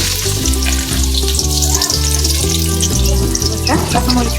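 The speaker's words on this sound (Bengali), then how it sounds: "তার জন্য কড়াইটা বসায় দিছি তেলও দিয়ে দিছি তখন পেঁয়াজ কুচি দিয়ে" Chopped onions fry in hot oil in a kadai wok, giving a loud, continuous crackling sizzle with occasional scraping stirs across the whole stretch.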